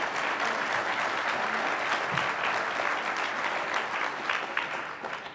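An audience at a regional science and engineering fair awards ceremony gives a sustained round of applause, dense and even clapping from a large crowd that carries on throughout.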